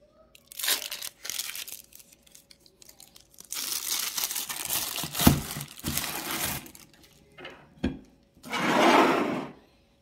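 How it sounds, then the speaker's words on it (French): Crinkly baking parchment paper rustling and tearing in several bursts with short pauses as it is peeled off a cheesecake, ending in a longer crackling peel; close and fairly loud, no voices. "On enlève aussi le film de papier cuisson."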